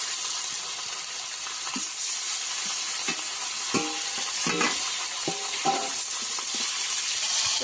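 Freshly caught mrigal fish pieces fry in hot oil in a pan as they brown, giving a steady, close sizzle with clinks and scrapes of stirring scattered across it.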